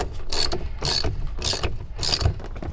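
Inside a budget BMW, a ratchet tightens a bolt back in with its reused washer: four quick bursts of clicking, evenly spaced, close and clear.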